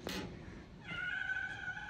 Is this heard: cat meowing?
yes